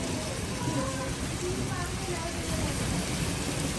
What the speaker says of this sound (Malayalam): മഴ ഇങ്ങനെ ചെറുതായി ചെറുതായി ഇങ്ങനെ ശക്തി പ്രാപിച്ചുകൊണ്ട് വരുവാണ്